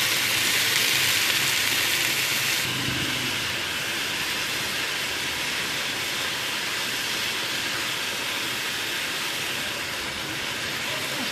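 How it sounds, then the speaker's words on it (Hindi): Chicken fries in a pan for a chicken burger, giving a loud, steady, broadband sizzle that hisses without break from start to finish. "और अब हम डालेंगे इसमें अपनी चिकन, और चिकन को हम इतनी देर भूनेंगे कि इसका कलर चेंज हो जाए"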